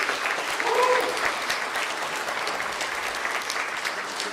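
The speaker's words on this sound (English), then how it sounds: "One more round of applause for our bird singers" Applause at a Native community welcome dinner after a performance by bird singers, a steady, moderately distant round of clapping from a crowd that carries evenly throughout, with faint voices beneath.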